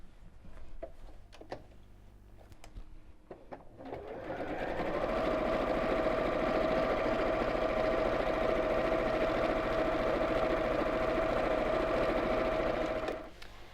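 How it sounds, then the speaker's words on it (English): A sewing machine stitches around the outside of a child's drawstring backpack: a few quiet handling clicks, then a steady, close mechanical whir running continuously for about nine seconds before stopping. "we're going to sew all the way around the outside and leave a turning gap in the bottom"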